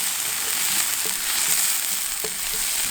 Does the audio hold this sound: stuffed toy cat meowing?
no